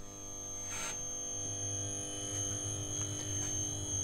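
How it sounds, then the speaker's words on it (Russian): A Chloride 120 kVA UPS inverter starts up and gives a faint, steady electrical hum with buzzing tones as its cooling fans spin up, with a few soft clicks and thumps mixed in. "Запустился инвертор, запускаются вентиляторы. Гул пошел."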